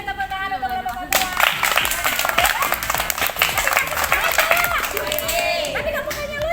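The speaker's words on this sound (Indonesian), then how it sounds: "beri tepuk tangan untuk Bapak kedua" An audience at an academic session bursts into sustained clapping for the second participant, dense and steady after a brief spoken moment at the start.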